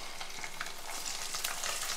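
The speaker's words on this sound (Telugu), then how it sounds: "ఇప్పుడు నేను ఆవాలు కూడా వేస్తున్నాను," Mustard seeds frying in hot oil for a tempering, giving a continuous, quiet, crackling sizzle with light popping throughout.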